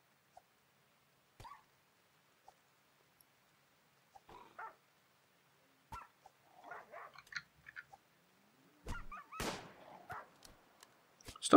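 A dog in the video game Rimworld giving scattered short yelps, whimpers and barks, faint and intermittent over near silence, building to a louder burst of sharp sounds near the end.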